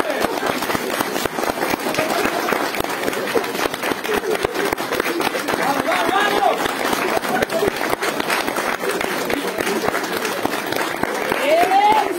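A comedy show audience claps steadily in a dense, continuous patter of applause, fairly loud and close, with occasional brief higher cries above it.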